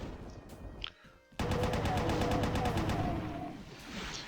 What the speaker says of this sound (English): So I like to just take out my rocket launcher, kind of soften up the crew.